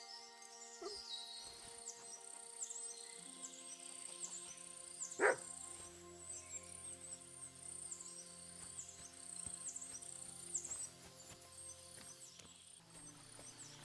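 A dog barks in the Kingdom Come: Deliverance 2 video game, one sharp bark standing out early, set against faint chirping insects and low ambient game music.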